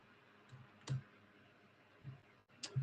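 Soft, sparse clicks of a computer keyboard being typed on, a handful of quiet taps spread unevenly across a few seconds in an otherwise still room.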